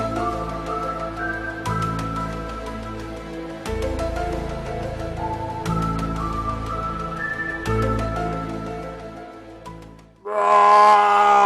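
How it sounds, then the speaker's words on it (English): A Star Wars Wookiee lets out long, groaning, moaning roars in several sustained bursts over a steady film-score backdrop, ending in a louder, harsher burst. "that is the sound of a Wookiee you hear there"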